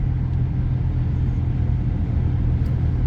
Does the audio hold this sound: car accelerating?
yes